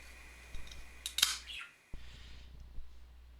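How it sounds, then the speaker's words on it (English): Snipping through excess chimney damper control cable, a couple of sharp metallic cuts close by with a brief scrape, otherwise quiet. "clamp it, and cut the excess cable"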